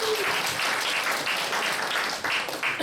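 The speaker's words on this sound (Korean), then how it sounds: "축복의 박수 하겠습니다" Congregation applause at a youth church service, blessing a new member: a brisk, continuous round of clapping from a room full of people, steady and fairly loud.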